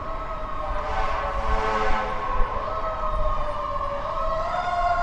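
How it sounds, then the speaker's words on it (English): Fire engine siren from Engine 16 responding near the White House on 14th Street in Washington, a loud wailing tone rising and falling steadily over traffic noise, fairly close and sustained. "Anytime there's a call at the White House, that is the first due fire truck."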